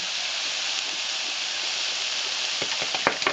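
Eggplant stir-fry sizzling loudly in a pan right after marinade is added, a dense continuous hiss with a few sharp crackles and spatters near the end, no talking.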